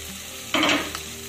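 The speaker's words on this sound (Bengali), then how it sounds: "এবার আমি ভেজে রাখা বেগুনগুলো দিয়ে দেব" Fried eggplant pieces go into a pan of sizzling egg masala, a steady close frying hiss swelling into a brief burst of louder sizzle and stirring, then settling back.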